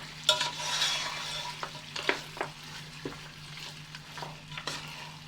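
Mutton banjara gravy sizzling gently in a pan on a low flame, a soft continuous frying crackle with occasional stirring scrapes, close and fairly quiet.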